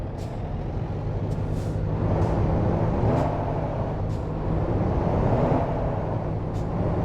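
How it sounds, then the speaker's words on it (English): Truck in American Truck Simulator hauling a heavy load of generators, a steady low engine drone with road rumble and occasional hissing air-brake bursts, continuous and moderately loud. "The truck is pulling them pretty well"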